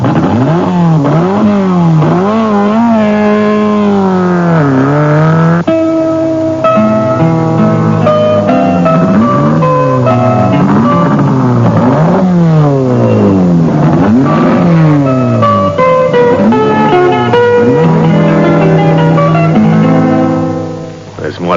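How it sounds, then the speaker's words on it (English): Radio-drama car engine revving hard and sweeping up and down in pitch as it drives off and rounds a corner, loud and close, with voices speaking over it. "You're gonna drive this car around the corner and onto the center of the bridge."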